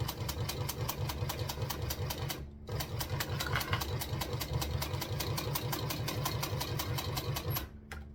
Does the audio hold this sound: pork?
no